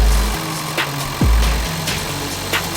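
A 2008 Toyota Prius starting up after new spark plugs, with a low rumbling engine that catches and settles into a steady idle, loud and close, no talking.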